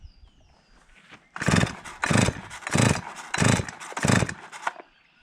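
A small engine bogs down while running, surging in five evenly spaced loud, rough bursts that sag between each, heard close with no talk.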